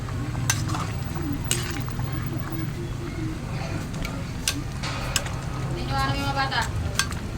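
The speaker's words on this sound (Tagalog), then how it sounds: "Haluin na natin para mahalo yung kalabasa sa malunggay" A spoon stirs squash and moringa leaves in a cooking pot, giving soft scraping and clinking against the pot with a faint simmering hiss beneath, while a voice talks over it.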